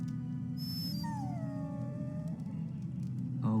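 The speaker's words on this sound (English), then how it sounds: "Bloody dog." A dog whines with a rising, drawn-out whimper in the Dragon Age: Origins fantasy game, faint over a steady low background hum.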